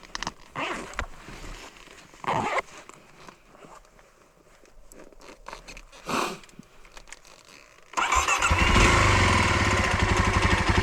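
An old motorcycle is cranked with several scuffing, sputtering tries, then the engine catches and settles into a loud, steady, rumbling idle that runs to the end.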